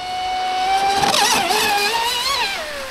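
A Sonicwake 36 V2 RC boat motor screams at full throttle, a high whine that rises and wavers as the boat runs, then drops away near the end.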